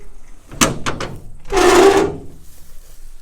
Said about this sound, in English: Let's see if we can get this door open.